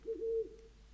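An owl in The Witcher 3 gives a single low, soft hoot, a brief steady coo that fades quickly into quiet with nothing else around it.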